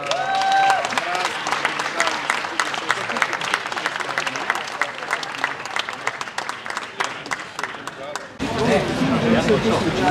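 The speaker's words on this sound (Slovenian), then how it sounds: "en aplavz za Sovice" Applause from a crowd at an outdoor stadium sports awards ceremony in Domžale, greeting a performance by the Sovice troupe; dense, loud clapping runs steadily for about eight seconds before shifting to a rougher crowd roar with voices.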